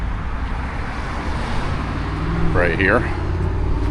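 A loud truck rolls by on a roadway outside a collectibles shop in Archdale, North Carolina, a continuous heavy rumble with traffic noise that swells slightly toward the end while someone talks briefly.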